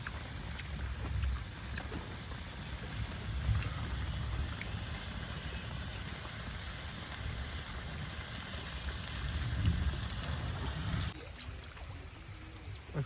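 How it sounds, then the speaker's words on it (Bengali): Light rain falling outdoors, a steady soft hiss with scattered patter, continuous and fairly quiet throughout. "এখনো বৃষ্টি হচ্ছে দেখেন"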